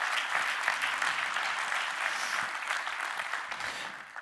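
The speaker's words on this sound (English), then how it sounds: "give a big round of applause for yourself" An indoor audience at a business event gives a dense, sustained round of applause lasting about four seconds, loud and even with no voices on top.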